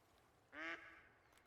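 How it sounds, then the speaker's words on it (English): A duck flying over the Canadian wilderness of theHunter: Call of the Wild gives a single short, nasal quack over a quiet outdoor ambience. "Got ducks flying over too."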